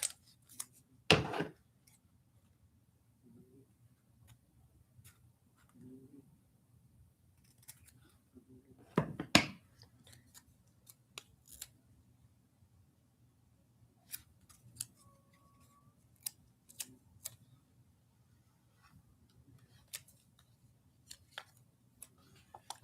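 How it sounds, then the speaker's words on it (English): Scissors cut through paper in a few separate, close snips spread across a quiet room, with faint rustles and small handling sounds between them. "Cut it in half."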